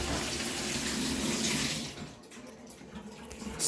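Tap water runs steadily from a faucet being checked after work on a water heater's elements, a broad continuous hiss that drops away about halfway through, leaving quieter, uneven splashing.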